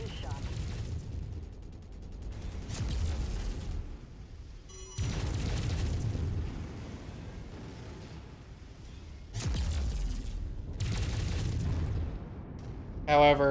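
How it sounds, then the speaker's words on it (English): A mech's ammunition explodes in a video game, heard as several deep booming bursts and rumbling blasts that rise and fall over continuous loud game noise. "Oh, is that an ammo explosion?"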